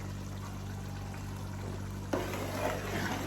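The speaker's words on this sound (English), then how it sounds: "be adding meat stock" Meat stock poured into a hot pot for a vegetable sauce, a steady broadband rush of liquid and sizzle that surges louder partway through, close and continuous, with no talking.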